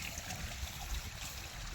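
Water from a motor pump runs along a farm irrigation channel, a faint, soft, continuous trickling and gurgling with no voices.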